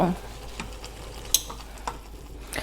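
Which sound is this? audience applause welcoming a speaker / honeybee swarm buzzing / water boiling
water boiling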